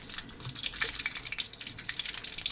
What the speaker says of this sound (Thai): ก็ผัด ไฟเบาไปเรื่อยๆ นะครับ จน ขิงกับกระเทียมนะครับ มีกลิ่นหอมดีแล้ว